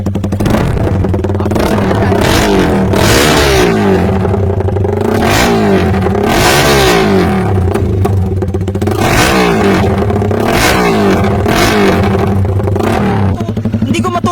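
Suzuki Raider 150 motorcycle fitted with an open pipe exhaust, revving loudly and continuously outdoors at about half throttle, its rough, rumbling tone rising and falling in repeated surges.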